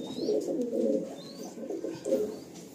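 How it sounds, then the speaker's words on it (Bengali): Pigeons of an eye-line breed coo in soft, repeated low phrases, with one longer burst near the start and another near the end, close by with faint chirps in the background. "এটা চোখের লাইনের পায়রা"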